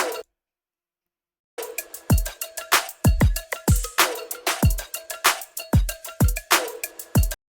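Hard-hitting boy-group style drum track, played dry without drum bus processing; a brief opening gives way to silence, then a steady loud pattern of booming kicks, snappy snares and hi-hats runs for several bars.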